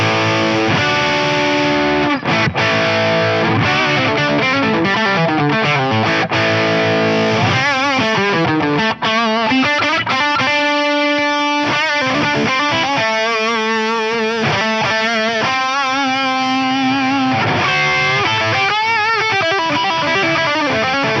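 Humbucker-equipped electric guitar played through a BOSS OD-200 distortion pedal, a continuous loud stream of distorted chords and sustained notes with shifting pitches, heard alone with no talking.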